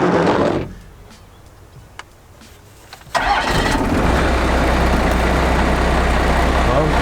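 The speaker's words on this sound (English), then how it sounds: "Let's see if it'll start up here first." Cummins 24-valve diesel truck engine cranking and catching, a brief cranking burst then quiet, followed by the engine firing up into a loud, steady close idle.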